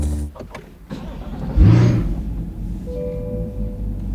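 A Corvette C8 ZR1 fires up with a sharp starter catch and a loud rising revving bark, then drops to a deep, steady idle rumble close by.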